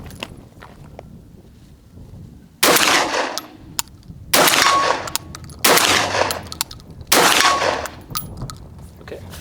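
Benelli M4 semi-automatic shotgun, a USMC M1014 clone, firing Red Star slugs: four loud, sharp blasts with long ringing tails, spaced about two seconds apart outdoors, with quiet background between shots.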